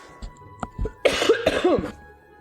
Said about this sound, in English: Oh, I need to cough real quick.